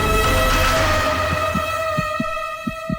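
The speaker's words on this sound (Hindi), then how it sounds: "ये मेरे दिल के धड़कने की आवाज है।" A heartbeat sound effect thumps in evenly spaced soft low pulses, rising into focus as a sustained hum and music fade beneath it.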